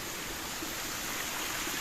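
Water rushes from streams and the Naguni waterfall near Dharamshala in Himachal, a steady, dense hiss that stays uniform and fairly faint, with no voices.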